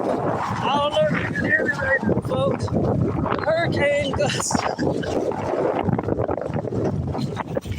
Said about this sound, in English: The hurricane gusts.